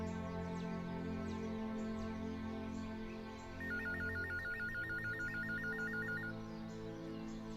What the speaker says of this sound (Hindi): आ गया मेरी बच्ची का फोन, जा जाके देख।